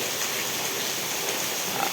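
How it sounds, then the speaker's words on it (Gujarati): Heavy rain falling on a winter morning in Vejalka village, Ranpur taluka, Botad district, Gujarat, a dense steady hiss of downpour with no pauses and no voices. "કેટલો અતિ ભારે વરસાદ પડી રહ્યો છે"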